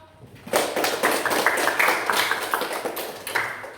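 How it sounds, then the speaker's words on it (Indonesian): A seventh-grade class claps together in a classroom, producing loud, close, slightly uneven bursts of handclaps that mix into a brief round of applause. "Tepuk tangan dong"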